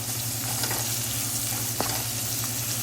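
Green chillies fry in hot oil in a pan for a celery stir-fry, a loud, continuous close sizzle with a faint stir near the end and no talking.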